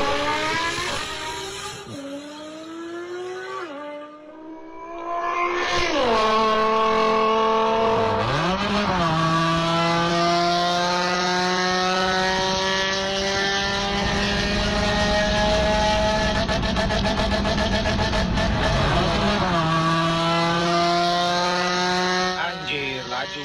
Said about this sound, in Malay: Ini kereta bukan sembarang kereta. Ini kereta supercharged mah.